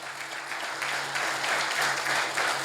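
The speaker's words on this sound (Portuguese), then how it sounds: "Aplaude ele, bem forte, bem bonito." A church congregation claps loudly and steadily after a sermon, a dense continuous wash of applause that holds for the whole stretch.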